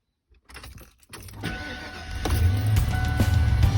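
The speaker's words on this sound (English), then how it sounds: "Start engine, let idle here in just a minute. We're going to let the thing run and idle." A 1993 Ford F-150 engine cranks after a few clicks and fumbling, catches about two seconds in, then settles into a steady, close rumbling idle.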